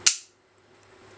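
A single sharp snap of a toy cap gun, short and crisp, followed by quiet.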